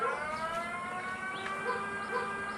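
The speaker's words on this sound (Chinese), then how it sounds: "海啸的警报也要正式在3点钟开始发布，村里的广播要同时启动。" A tsunami warning siren wails over a village in Hualien, Taiwan, a steady rising and falling tone that carries from a distance, with birds chirping faintly over it.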